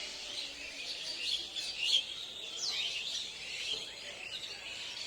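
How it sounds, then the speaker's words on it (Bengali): Many small birds chirp and twitter together in bamboo at dusk, a dense, continuous chorus of high tweets at moderate distance, fairly soft, with no speech. "চারিদিকে কত পাখির ডাক শুনতে পাচ্ছ কিনা বুঝতে পারছি না"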